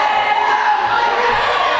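A wrestling crowd at a Valentine's Day show loudly jeering wrestler Cecil Cerveza, a steady roar of massed voices and shouts filling the arena without pause.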